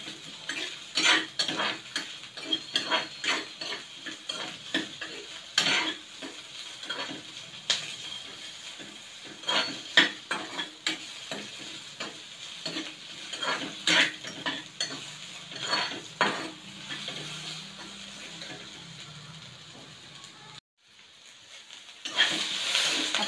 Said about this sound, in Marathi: त्याला चांगला लाल होईपर्यंत परतून घेऊया